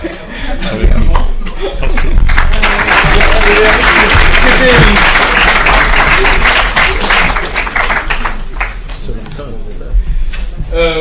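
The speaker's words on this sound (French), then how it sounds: "C'est d'ailleurs sous les applaudissements de la foule ici que nous allons vous demander de bien rejoindre vos places" A crowd applauds at a talk on the African diaspora's responsibility toward Africa, steady loud clapping filling the room throughout with some chuckling and murmured voices mixed in.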